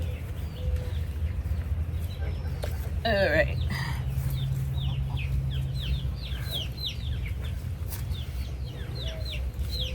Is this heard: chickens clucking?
yes